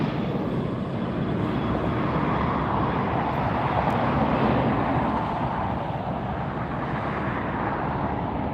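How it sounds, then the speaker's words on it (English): An Alaska Airlines jet in One World special livery taxiing out at Los Angeles International Airport, its broad engine roar steady and fairly loud throughout, with no voices. "Alaska Airlines One World Special Livery heading out."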